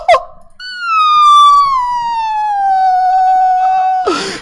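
A voice imitates a siren during Minecraft PvP gameplay, holding one long wailing tone that slowly falls in pitch for about three and a half seconds, loud and close, with brief noises before and after.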